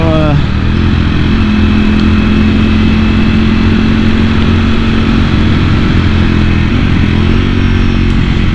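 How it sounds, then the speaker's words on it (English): A motorcycle engine roaring steadily in third gear at 60 mph, with the rushing hiss of wind and pouring rain all around; a voice talks faintly underneath. "third gear, 60 miles an hour in the pouring rain"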